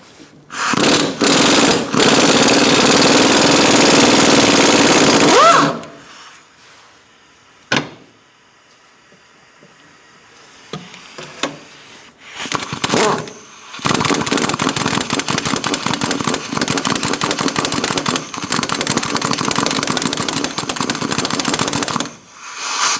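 An impact or air ratchet with a 17mm socket rattles loud and close as it loosens a rear hub bolt on a 2002–2006 Honda CR-V, long chattering bursts broken by a quiet pause with metallic clinks.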